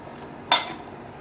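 A single light clink as fried lentil fritters are set onto a plate, one short, close crockery contact against quiet background.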